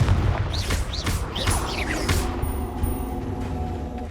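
Confringo blasting spell in Hogwarts Legacy, a series of booming, crackling impacts with whooshing magical swirls, loud and close, fading into a lingering rumble.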